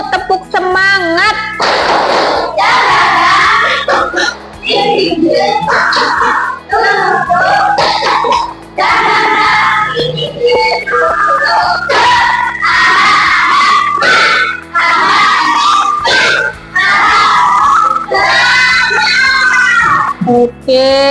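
Schoolchildren in a classroom shout the tepuk semangat chant together, loud and close. Bursts of rhythmic clapping and voices repeat in a steady pattern over about twenty seconds.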